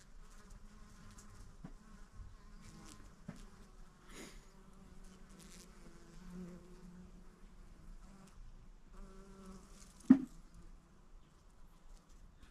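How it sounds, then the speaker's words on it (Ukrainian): Bees buzz faintly among garden flowers, the drone rising and fading as they move about, with a few soft bumps and one brief louder tap, all quiet and outdoors. "Отак бджілки собі працюють."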